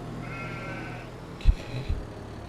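Sheep bleating in Farming Simulator 25, a soft wavering bleat near the start over low ambient game noise, followed by a couple of short thuds.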